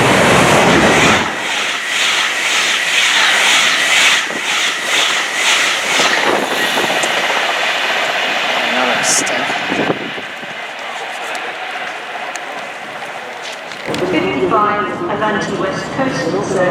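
A train thunders through Watford Junction station, a loud close roar that holds steady for most of the passage before dropping away near the end, followed by a shorter, thinner rattle.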